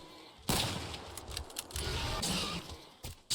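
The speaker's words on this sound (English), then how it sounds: "And there goes our companion opening fire." Gunfire from an AI companion in STALKER GAMMA, with sharp broadband shots bursting in at about half a second and then firing irregularly over a few seconds, fairly close and moderately loud.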